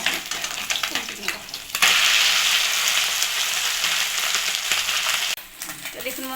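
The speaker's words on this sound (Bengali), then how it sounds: "মাছগুলো আমার ভেজে নেওয়া হয়ে গেছে" Borali fish fry in a pan with a loud, steady sizzle, first quieter with a few stirring scrapes, then a surge of crackling hiss that holds and drops off abruptly near the end.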